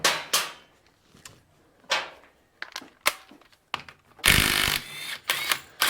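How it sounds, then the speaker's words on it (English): A 17mm socket and ratchet working a bolt loose on a 2000 Yamaha Warrior with a starter clutch failure: sharp metallic clicks and clanks in separate bursts, close and loud, with a longer scraping rattle toward the end. "Now we'll grab our 17mm socket, throw it on here, and get that out."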